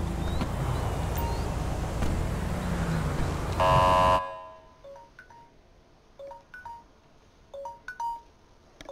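Timer alarm sounding as a short run of repeated electronic beeps, loud for a moment before cutting off, followed by quieter scattered game tones.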